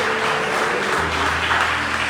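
A church congregation claps during a worship service, a brief, dense burst of applause filling the room at moderate loudness with no voices over it.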